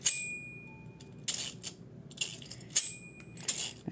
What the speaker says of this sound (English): And he has the bell.